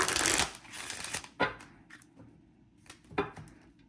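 A deck of cards riffles in a few quick bursts, crisp fluttering shuffles separated by short pauses, close and fairly quiet.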